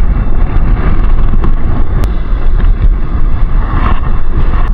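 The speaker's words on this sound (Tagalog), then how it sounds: "Malakas yung hangin mga buddy," Strong wind buffets the microphone while fishing, a loud, continuous roaring rumble with gusty fluctuations and no clear voices.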